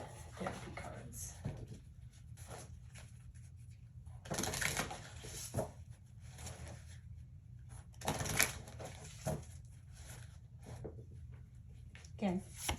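Therapy cards shuffled by hand in repeated soft riffling bursts, close and moderately loud, with a few louder flurries across the stretch.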